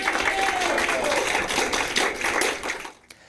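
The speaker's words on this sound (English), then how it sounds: "that update met with an enthusiastic round of applause at the meeting" Enthusiastic round of applause from a crowd at a community meeting, a dense steady clatter of many hands clapping that holds for about three seconds before tapering off abruptly.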